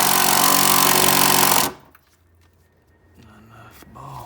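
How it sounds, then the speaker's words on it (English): Bolts on a Nissan Z31 fuel pump strap are loosened with a loud, continuous mechanical whirring that runs for about a second and a half, then cuts off abruptly, leaving near silence with faint handling noises. "I'm just gonna go ahead and loosen these bolts right here"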